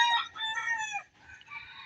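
Chickens and roosters on a farm, a rooster crowing close and loud with clucking hens around it, short bursts over a quiet background.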